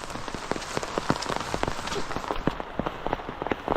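Steady rain pours onto a surface outdoors during a tropical downpour in a Philippine field where taro and jackfruit are being gathered, with dense, crackling patter and distinct splashy drop hits throughout.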